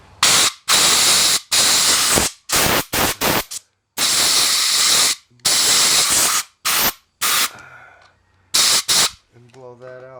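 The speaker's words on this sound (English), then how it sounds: "We're going to grab some carburetor cleaner and just get any oil and grease off of there." Carburetor cleaner sprays in several bursts onto the ignition points of a Honda Z50 motorcycle, a series of close, loud hissing blasts with brief pauses between them, followed by softer mechanical sounds and a short voice near the end.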